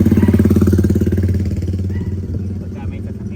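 A motorcycle engine putters loudly and close by on a street, its rapid pulsing throb fading as it moves away. Voices talk over it.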